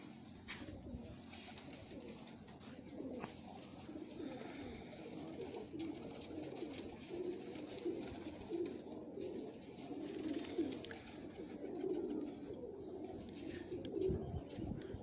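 Dubai-breed pigeons cooing steadily at a moderate distance, soft repeated coos rolling on without a break in a pigeon loft setting.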